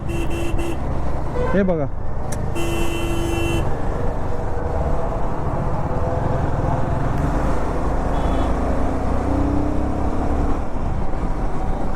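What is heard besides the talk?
heavy road traffic with car horns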